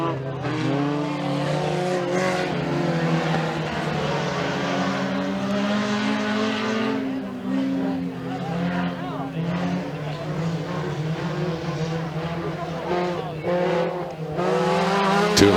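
Race cars howl around the track in heats at Freedom Motorsports Park, engines revving and rising as they pass, with a commentator talking continuously over the racing.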